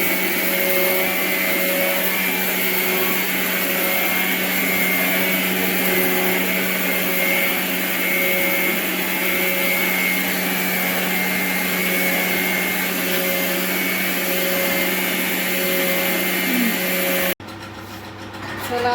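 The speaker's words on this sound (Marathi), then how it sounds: "आता मिक्सरला मी बारीक करून घेणार आहे" A kitchen mixer grinder grinds rice with a loud, steady motor whine that runs continuously for about seventeen seconds, then cuts off abruptly.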